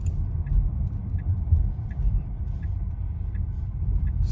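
Tesla Model X Plaid with 6,700 miles pulling away onto the road, a steady low electric drive rumble with faint road and tire noise, fairly close and even, with soft periodic ticks and no talking.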